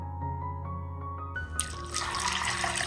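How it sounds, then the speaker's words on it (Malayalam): Water runs into a vessel to soak sago, a tonal filling sound whose pitch climbs as the container fills, then breaks into a louder, broader splashing gush. "ഇതുപോലെ നിറച്ച് വെള്ളം ഒഴിച്ചിട്ട് വേണം കുതിർക്കാൻ വെക്കാൻ വേണ്ടിയിട്ട്."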